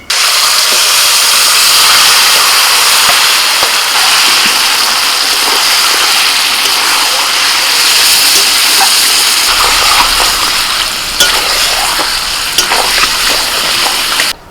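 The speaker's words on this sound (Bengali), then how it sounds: "এবার চিকেনটাকে আমি কষিয়ে দিই" Chicken sautéing in oil left over from frying onions for bamboo biryani, a loud, steady sizzle and hiss that runs throughout with occasional stirring clatter.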